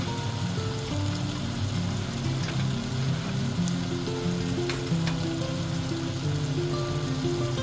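Rice frying in oil in a pan with spices being added, a steady, loud, close sizzle running unbroken throughout with faint crackles and no talk.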